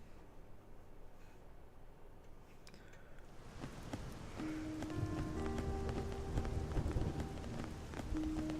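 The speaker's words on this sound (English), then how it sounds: "Hope you don't mind the rain." Steady rain falls in the city of New Los Angeles in the video game Xenoblade Chronicles X, a soft, faint, even hiss that continues as quiet tonal music notes join in.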